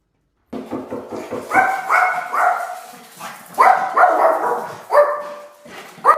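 A dog barks repeatedly at close range, a quick run of short yips followed by louder, sustained barks and whines in uneven bursts.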